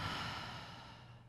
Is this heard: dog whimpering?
no